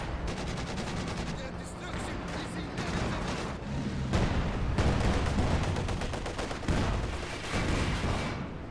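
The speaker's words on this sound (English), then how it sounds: "A great hit there by the mortar." Mortar shells strike amid a Company of Heroes 2 battle, with dense rattling gunfire and repeated blasts that keep up a loud, continuous barrage across the whole stretch.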